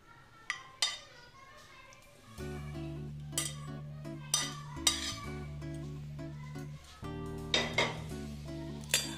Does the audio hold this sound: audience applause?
no